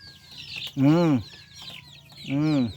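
Shamo and Texas gamecocks in a fight give two loud, strained squawking calls, one near the start and one near the end, over a low murmur of background noise and cackling.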